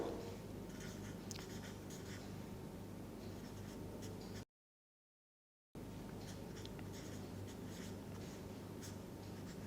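A marker or chalk scratches across a board as chemical reactions are written out, a quiet continuous scraping broken by a short silent pause before the strokes resume.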